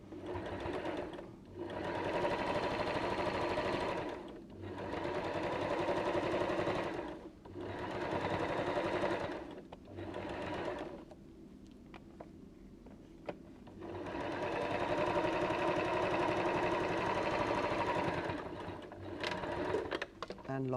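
A sewing machine runs a seam on a fabric basket in several long, steady whirring passes broken by short pauses and faint clicks, close by, with a little quiet speech in the gaps.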